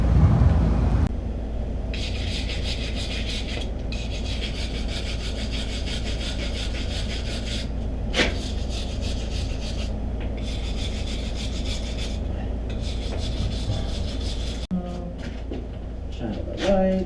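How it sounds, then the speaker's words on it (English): Plumbing pipe ends being cleaned by rubbing with an abrasive, a steady continuous scraping hiss with brief pauses, close and fairly loud in a basement. "So now I'm going to clean these pipe ends up."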